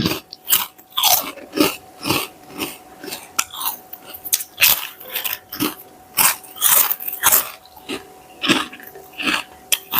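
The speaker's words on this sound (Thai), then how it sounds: "กรอบค่ะ กรอบอร่อย" Crispy Thai rice crackers topped with pork floss are bitten and chewed close to the mic, making loud, rapid, repeated crunches in an uneven rhythm with no talking.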